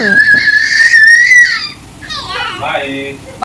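A young girl screams and cries loudly and close by in a sustained high wail that breaks into sobbing cries.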